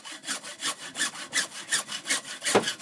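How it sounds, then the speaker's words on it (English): A hacksaw cuts at an angle through PVC drain pipe during a basement sink repair, giving about a dozen steady, rasping back-and-forth strokes close up with no talking. "cut PVC just as long as you have some patience."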